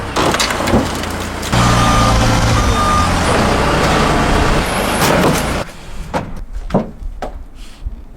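A forklift rated for 6,000 pounds backs up and hoists a car, with a steady reversing beep over loud engine rumble and creaking, then scattered clunks and knocks as the load settles.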